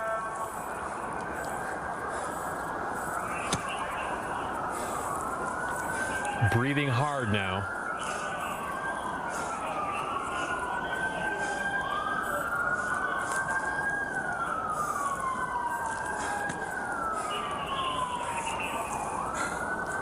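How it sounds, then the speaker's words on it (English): Repeated rising and falling police siren wails, moderately loud and continuous, with a brief low rumble and someone talking midway through. "You can hear the sirens coming."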